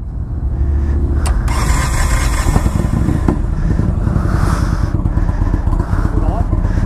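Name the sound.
2019 Indian Chieftain motorcycle engine running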